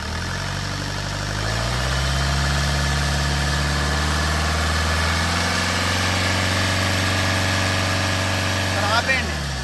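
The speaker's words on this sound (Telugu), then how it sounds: "సింగిల్ సెల్ఫ్లో అయితే వెహికల్ స్టార్ట్ అవుతుంది" A Fiat Punto Evo diesel engine idles in a used-car lot, a close, steady low rumble with a brief rev that rises and settles before it cuts off near the end.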